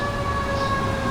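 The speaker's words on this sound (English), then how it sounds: "Every time I start a segment, the fire engine comes, or the police." A fire engine siren passes by, a steady, loud wailing tone holding throughout a brief moment with no voices.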